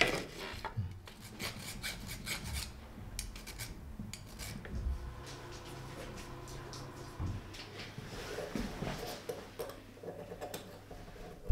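A hand file works a katana fitting in a series of quiet, repeated rasping strokes with small ticks and taps between them, close and faint.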